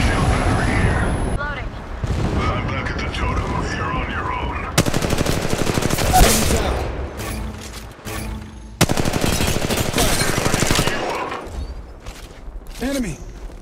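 Rapid automatic weapon fire in Apex Legends Mobile during a ranked match, bursts of loud close shots broken by brief pauses, with in-game voice callouts mixed over the shooting.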